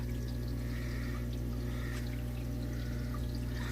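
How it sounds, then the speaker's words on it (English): Water pours back into a 40-gallon breeder aquarium, a constant close trickling wash layered over a steady low pump hum. "The water is actually filling back up right now"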